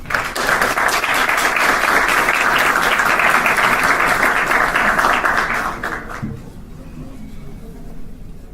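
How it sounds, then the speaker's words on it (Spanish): An audience at a talk applauds a speaker with loud, dense, sustained clapping for about six seconds before it drops off abruptly into quieter room sound. "Un aplauso para Axel Kaiser."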